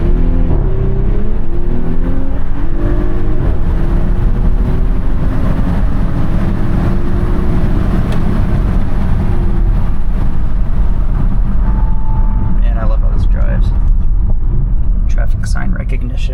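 The engine of a sleeper SUV drones steadily from inside the cabin during a test drive, a low continuous hum with gently rising revs, and a person talks over it.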